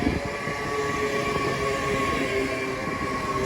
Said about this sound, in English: leading this one in is 800 311, which is also to Cardiff Central